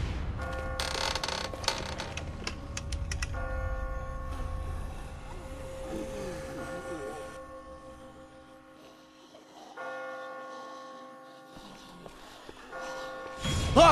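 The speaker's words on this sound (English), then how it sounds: "I just got spooked by those bells" Bells ring in The Walking Dead video game as a series of resonant tolls that sustain and overlap, with a quieter stretch in the middle before more rings, amid creaks and game ambience.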